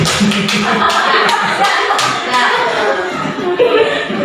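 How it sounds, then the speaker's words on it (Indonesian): Workshop participants in a meeting room give a round of applause, a dense patter of hand claps with voices and light laughter mixed in throughout. "terima kasih tepuk tangan untuk semua."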